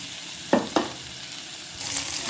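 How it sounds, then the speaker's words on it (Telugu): Chopped garlic dropped into hot oil for tempering a telaga pindi curry, two quick bursts of sizzle followed by a quieter, softer crackle, close and alone. "ఇందులోనే మనం కట్ చేసి పెట్టుకున్న వెల్లుల్లిపాయలు అన్నీ పోపుకి రెడీ చేసుకున్నాం కదండి ఇవన్నీ వేసేసుకోవాలి"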